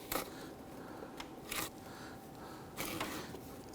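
A camshaft position sensor on a 2006-2010 Hummer H3 with the 3.7L engine is worked into its bore, making a few dull plastic clicks and rustling scrapes spaced about a second apart over faint background hiss.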